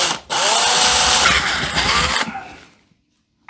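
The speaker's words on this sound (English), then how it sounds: "So let's start drilling." Power drill boring into a wall to take a plug for mounting a heavy mirror, a loud continuous whine lasting about two seconds before winding down into silence.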